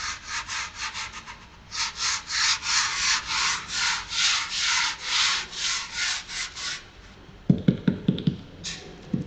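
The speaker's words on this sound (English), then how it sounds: "I'll rub it to smooth it." Hand rubbing freshly laid fiberglass on a fuselage mold, a steady run of close, rhythmic scuffing strokes, followed by a few softer pats and dull knocks near the end.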